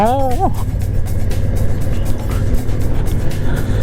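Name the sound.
Honda Africa Twin motorcycle riding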